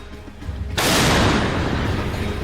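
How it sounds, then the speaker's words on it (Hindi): A German artillery gun fires on Russian positions, one sudden heavy boom followed by a long rumbling roar that slowly fades, loud and close with no voices. "रूस के ठिकानों से आग के गोले बरसाती ये है जर्मनी की सबसे भरोसेमंद आर्टिलरी"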